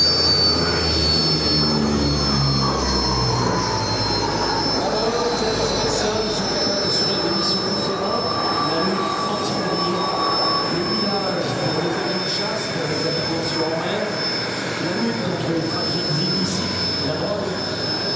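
An Atlantique 2 maritime patrol aircraft flies past at an air show, its loud, steady turboprop roar filling the air with a drone that slowly shifts in pitch as it passes close by.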